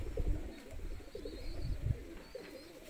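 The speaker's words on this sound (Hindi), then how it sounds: "ये भाई मेरे कबूतर सब अच्छे वाले" Soft, repeated cooing of pigeons close by, low and throaty, with a few wing flutters and faint background noise.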